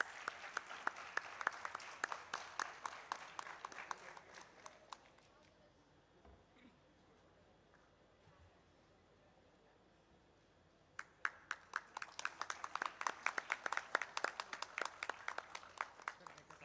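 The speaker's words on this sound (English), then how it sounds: "Please, can we have a round of applause?" Audience clapping at a hackathon awards ceremony comes in two bursts of crisp, distinct claps, separated by a quieter stretch in the middle, then rising again to a lively finish.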